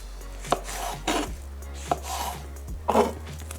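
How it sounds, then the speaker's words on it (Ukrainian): A knife chops oyster mushrooms into pieces on a board: four distinct, close cutting thunks spaced roughly a second apart, with quiet rustling between them. "І нарізаємо такими шматочками"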